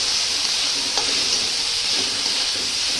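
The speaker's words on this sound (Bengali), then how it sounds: "এবার দিয়ে দেবো চিড়েটা, সেটা জল দিয়ে আমি রেখে দিয়ে দেবো।" Soaked flattened rice (poha) being stirred in a pan with coriander leaves, a steady broadband sizzle and hiss with faint scraping, close and even, with no talking.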